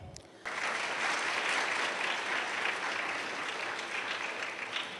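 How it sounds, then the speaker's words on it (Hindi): Audience at a school event bursting into steady applause after a brief quieter moment, many hands clapping densely and evenly, fairly loud and continuous. "मेरे इस कहने पर आप लोगों ने तालियां तो बजा दी"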